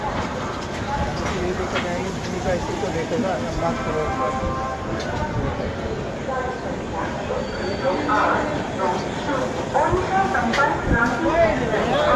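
The Odisha Sampark Kranti Express arriving at Kanpur Central station, heard from on board as a steady rumble with rattling and clatter throughout, while people talk over it.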